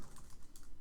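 Rapid keystrokes on a computer keyboard, a quick run of soft, close clicks in an irregular rhythm with no voice.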